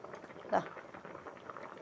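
A pot of gooseberries simmering for honey gooseberry gives a faint, steady bubbling with one brief louder pop near the middle, heard alone at low level.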